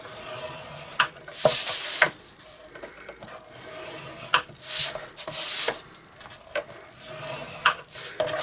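Mossy Meadow green cardstock is scored at one inch on all sides, a series of scraping, rubbing strokes that come in bursts with short pauses, close and fairly quiet.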